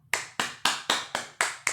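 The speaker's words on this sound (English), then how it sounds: "let us clap over our heads and we won't stop clapping" A class clapping hands together over their heads, heard as seven sharp, evenly spaced claps in a steady rhythm, close and clear with no other sound.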